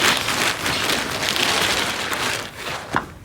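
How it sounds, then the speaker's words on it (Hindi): Steady rain falls outdoors on grass, a dense continuous hiss of drops with a few louder individual splashes near the end. "क्योंकि बारिश स्टार्ट हो गई है।"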